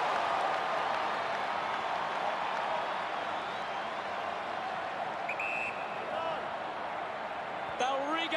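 Steady broad roar of a large football stadium crowd at an AFL 2020 match between St Kilda and the Western Bulldogs, cheering continuously throughout with a commentator talking over it.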